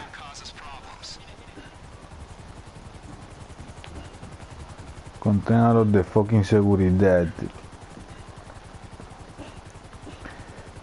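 A helicopter's rotor thumps steadily throughout in Grand Theft Auto V, while someone speaks briefly over it partway through.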